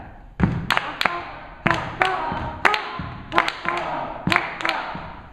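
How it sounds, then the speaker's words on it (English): A class of students claps together in a syncopated rhythm, sharp, crisp unison hand claps in uneven groupings with short pauses between, fairly close and clear over a quiet room. "Let's clap it and say the words."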